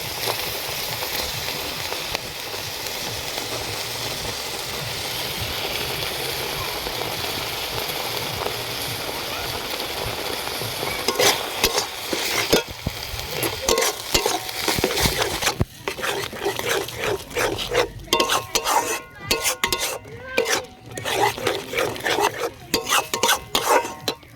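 Mustard and poppy seed paste frying in a pan for Bengali thor bata (banana stem paste), with a steady sizzle and bursts of stirring and scraping that grow busier and more uneven toward the end.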